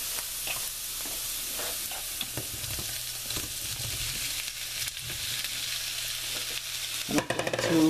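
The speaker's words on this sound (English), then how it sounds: "I'm going to cook and saute my sausages in with my onions" Sausages and onions sautéing in a frying pan give a steady, close sizzle with bursts of stirring and scraping throughout, and sharper clatter near the end.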